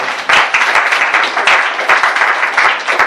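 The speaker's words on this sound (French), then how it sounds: "Acclamez très fort" Loud, dense applause from an audience at a church servants' meeting, many hands clapping together in a sustained, close roar.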